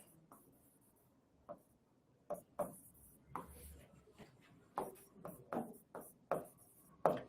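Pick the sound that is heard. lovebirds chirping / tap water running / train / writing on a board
writing on a board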